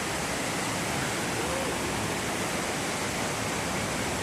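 Waterfall Cachoeira da Pedra Lisa in Boiçucanga, São Sebastião, a steady, dense roar of falling water close by, loud and unbroken throughout with no other sounds standing out.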